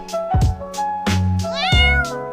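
A cat in a hotel room in Shenzhen near the Universiade Centre lets out several close, clear meows in quick succession, some rising and wavering, with no one talking.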